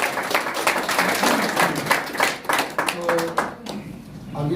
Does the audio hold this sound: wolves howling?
no